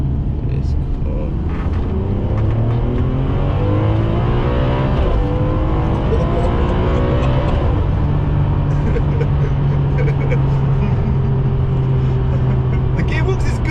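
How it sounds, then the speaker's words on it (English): A Ferrari 599 GTB's V12 engine revs up and drops as it shifts through several gears, steady and loud from inside the cabin. "it's shifting through them gears nicely for a big V12"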